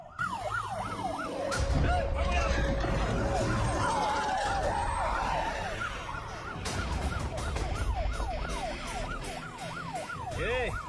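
An ambulance siren wails repeatedly amid traffic noise and commotion, fading in the middle and returning strongly toward the end.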